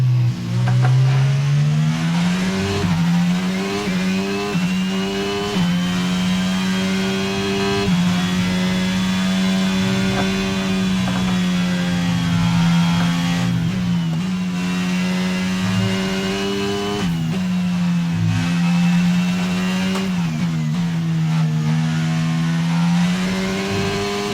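A Formula 1 race car engine in the F1 22 video game at the Austin Grand Prix screams steadily at high revs, dipping through gear shifts and climbing again, loud and close with no talking.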